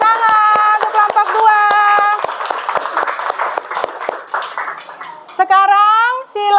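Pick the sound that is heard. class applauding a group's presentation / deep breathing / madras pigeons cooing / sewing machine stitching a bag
class applauding a group's presentation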